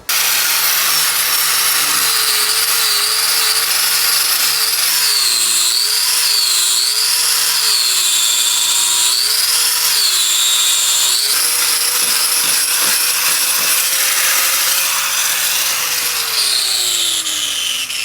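A power grinder runs continuously and loudly throughout wooden boat repair work, its whine wavering up and down in pitch before winding down toward the end as the machine loses power.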